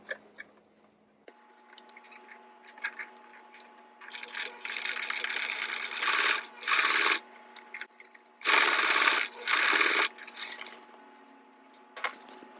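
A sewing machine runs a top stitch along a seam, in several bursts of rapid, buzzing stitching separated by short pauses, close and fairly loud over a faint background hum.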